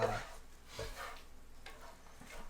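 Eggs being stirred in a sizzling frying pan for breakfast burritos, a soft scraping stir over a faint steady sizzle, quiet and close.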